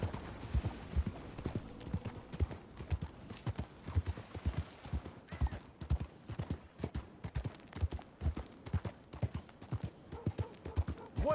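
Horse hooves clop in a steady, even rhythm throughout a PS4 game, close and continuous, with faint background game sounds underneath.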